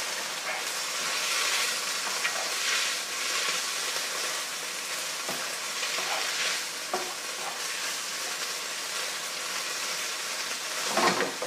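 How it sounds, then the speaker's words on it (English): Tomato sauce being stirred into shirataki konjac noodles in a pan, a steady hiss and sizzle with scraping of the spoon running throughout, near and moderately loud, no talking. "tomato sauce here, which I'm going to whack in there. Okay, right, give that a bit of a stir up."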